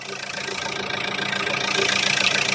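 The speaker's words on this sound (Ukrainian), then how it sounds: "Двигун працює рівно." A Renault Grand Scenic 1.5 dCi diesel engine idling close by, a steady rhythmic clatter that holds an even pace and grows slightly louder.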